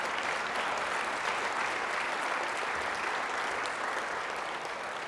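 An audience applauding in a music hall: a dense, steady wash of clapping that fills the room evenly for several seconds, with no break and no voice on top.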